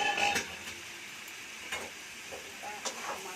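Chicken pieces sizzling and frying with spices in a pan, a steady hiss with scattered spoon stirs and light clinks, close and fairly quiet with no talking.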